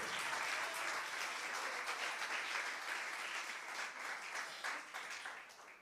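A church congregation applauds steadily for several seconds, a dense, even wash of many hands clapping at once that sounds somewhat distant.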